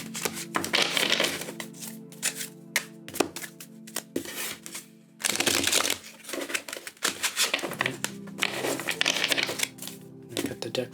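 Tarot cards being shuffled by hand, rapid riffling and crinkling bursts in several uneven runs with brief pauses between, close and moderately loud.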